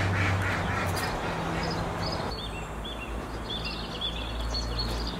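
A duck quacks in short nasal bursts a little way off in an outdoor yard, backed by a constant low hum and a wash of background noise.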